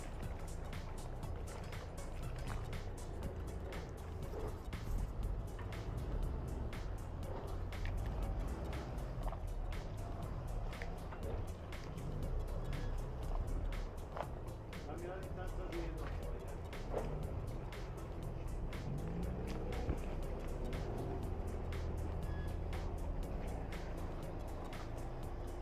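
Steady low engine rumble from a boat maneuvering and steering on its engines alone, continuous throughout with faint repetitive ticking and water noise, no speech.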